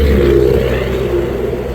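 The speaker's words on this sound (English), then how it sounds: "There's a car that just got off the interstate." A car engine droning nearby, a steady low rumble with a hum that fades slightly as it moves along.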